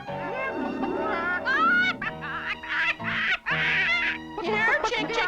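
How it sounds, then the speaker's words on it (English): Cartoon ducks quack in a lively, close run of nasal honks and squawks that rise and fall over several seconds, mixed with bright, chattering sounds. "Here, chick, chick, chick, chick. Here, ducks."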